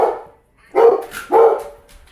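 Indoors, a dog barks twice at the door, two loud, close woofs about half a second apart, after a brief muffled sound and before fading to quiet.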